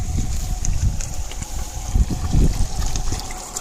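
Water turned on to irrigate a mini farm plot runs and trickles steadily, with low pump-like rumble and gusts of wind noise on the microphone.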